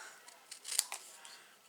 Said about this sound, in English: I can continue to snip off the bits I don't need